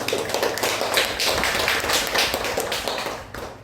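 A church congregation claps together in thanks during a Sunday worship service, a dense, sustained wash of many hands lasting a few seconds before tapering off at the end.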